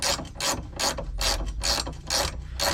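A ratchet wrench clicking on a rear suspension bolt of a Hyundai Elantra, about eight quick, even back-and-forth strokes with a sharp metallic pawl rattle, close up and without speech.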